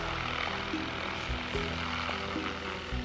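A steady, droning helicopter engine with low rotor-like thumping holds constant and fairly loud throughout, with no voices, at a Christmas tree farm carrying trees to a staging area.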